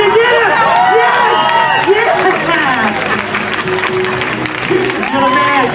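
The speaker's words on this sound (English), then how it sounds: "Give him another big round of applause" A crowd applauds loudly and continuously, with cheering and excited voices mixed into the dense clapping.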